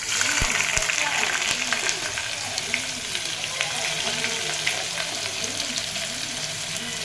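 Ingredients for biryani frying in a pot, a busy crackling sizzle with stirring and some running water, close and fairly loud, with voices talking over it.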